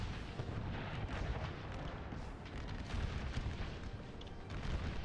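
Booming artillery fire in Total War: Napoleon with an American Civil War mod sounds as a dense, continuous rumble of overlapping cannon blasts and battlefield noise, loud and sustained with no speech.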